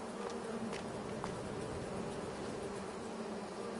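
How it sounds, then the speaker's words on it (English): Bees buzz continuously around beehives on a farm in Farming Simulator 22, a dense, steady drone with occasional closer passes, layered over a constant low ambient hum. "here's my beehives"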